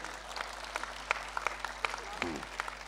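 Audience clapping at a school poetry recital, scattered and uneven claps with sharp individual hits, mixed with crowd murmur and a brief voice in the room.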